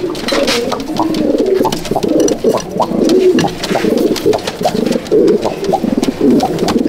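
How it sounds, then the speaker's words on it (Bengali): Pigeons in a backyard loft at Barrackpore cooing close by, overlapping repeated throaty coos in uneven bursts, loud and lively, with no voices. "এই দেখুন পায়রা"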